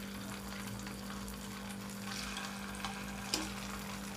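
A cauliflower floret dropped into hot oil as a test for pakora frying gives a steady close sizzle with soft crackle under a low electrical hum, rising a little midway, then a brief sharper pop near the end.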